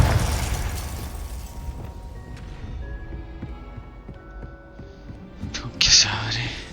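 A Confringo blasting spell goes off in Hogwarts Legacy with a strong low blast right at the start that decays into a rumble. Quieter game sounds follow, then a sharp bright burst near the end, with voices murmuring throughout.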